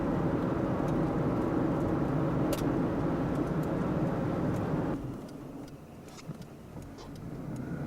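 Car driving along a winter road in Bailey, a steady low engine and tire hum heard from inside, which drops somewhat quieter partway through, with faint clicks and no talking.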